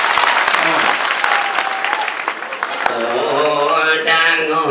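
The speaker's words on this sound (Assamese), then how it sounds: "হাত চাপৰি মাৰিব লাগে" An audience claps loudly and steadily after a song, the dense applause filling the stretch before a voice begins to rise near the end.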